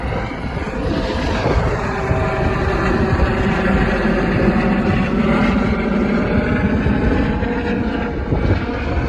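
Great North Air Ambulance Airbus H165 helicopter taking off at full throttle at Ulay Nook, a loud, steady, broadband rotor and turbine roar that holds close and constant throughout.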